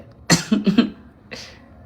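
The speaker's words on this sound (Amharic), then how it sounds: "ሰለቸኝ ማሳል" A person coughs in a quick cluster of four harsh, close bursts, then gives one more cough after a brief pause, loud and near with no talking.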